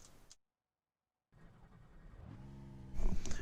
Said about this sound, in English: Here we are in the car. Let's turn it on.